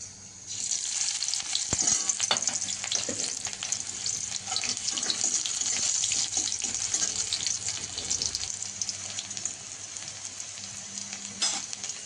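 Chopped onion and black cumin fry in hot oil in a pan, a continuous close sizzle and crackle with occasional clinks and stirring scrapes throughout.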